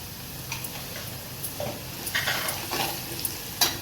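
Turmeric is stirred into garlic frying in a pan, a close sizzle broken by the scrape and tap of a spoon against the metal.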